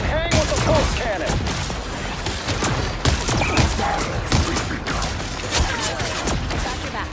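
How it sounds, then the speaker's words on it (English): A pulse cannon in the Marvel Rivals video game fires in rapid, dense bursts of booming shots, loud and continuous amid chaotic battle effects, with a voice speaking briefly between blasts. "Nobody can hang with the pulse cannon."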